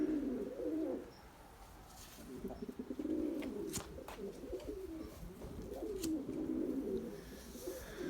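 Soft, low pigeon cooing repeats in rolling phrases, close by, with a faint rustle and a few light clicks.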